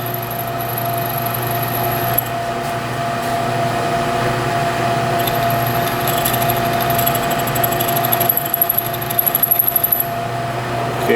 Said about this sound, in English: number 28 drill bit, pretty simple drilling procedure on the mill